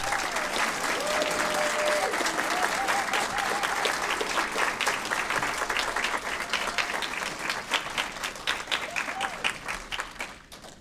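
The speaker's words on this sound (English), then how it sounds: "Let's have another round of applause" An audience at an honoree ceremony applauds with dense sustained clapping that stays loud for several seconds, then thins and tapers off.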